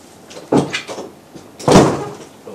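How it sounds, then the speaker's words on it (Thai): A door being closed indoors, with a few light bumps and rattles of the handling followed by one loud, close slam, and no talking. "ปิดประตู"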